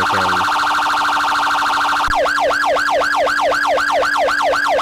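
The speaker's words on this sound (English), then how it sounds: "Priority sirens going on for these intersections" Electronic police sirens from the Roblox game Mano County: a short wail and steady tone, then a rapid rising-falling yelp cycling loudly and continuously, alone without talk.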